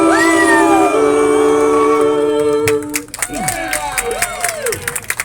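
An audience at a comedy and music show claps and cheers as a sung final note ends, a loud sustained burst of applause with whoops and yells rising after the singing stops.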